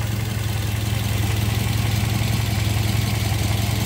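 A 2014 third-generation Toyota Vios sedan, modified, runs at idle with a smooth, even low hum and steady engine drone, close and unbroken, with no voices.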